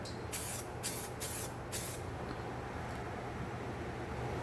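Spray gun laying a coat of epoxy onto scuffed bare metal on a 2017 Toyota Tundra truck bedside panel, several short bright hissing bursts in quick succession, then steady low shop noise.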